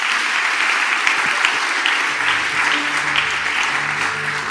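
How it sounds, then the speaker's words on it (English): A church congregation applauds during a sermon with dense, steady clapping, and a low sustained organ or keyboard tone enters partway through beneath it. "Let's give them a round of applause."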